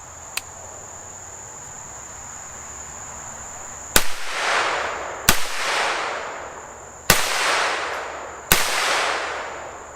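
AR-9 rifle with a binary trigger firing at a target about 10 yards away: four sharp, loud shots with echoing tails, spaced over several seconds, above a steady cricket-like outdoor drone.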